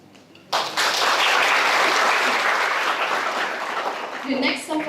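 A ceremony audience bursts into applause, a dense, steady wash of clapping that starts abruptly and holds for several seconds before a voice cuts in at the end.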